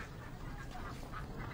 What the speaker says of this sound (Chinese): I can hear them quacking.